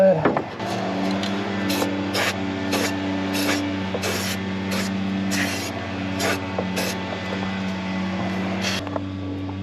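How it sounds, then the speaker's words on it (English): Rust-Oleum spray paint hisses in a long series of short spurts under a van, each burst sharp against a steady low hum. "This is what we're using, Rust-Oleum, under the van, spraying up."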